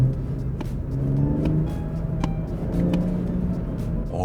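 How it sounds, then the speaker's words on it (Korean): A BMW 840i Gran Coupe pulls away under light throttle, its engine giving a low, smooth rumble that swells gently as the car moves off. The sound is close and steady, with faint ticks and no talking. "요렇게 출발할 때도 가속 페달을 상당히 살짝 누르는 거거든요."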